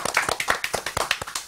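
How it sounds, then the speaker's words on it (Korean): A small group claps by hand at an informal gathering, a quick run of distinct sharp claps at an even rhythm, close and fairly loud, tapering slightly near the end. "박수 한번 해주십시오"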